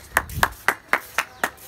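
A man claps his hands six times in a quick, even rhythm, sharp and close, outdoors at a kite-flying session, with no other sounds between the claps.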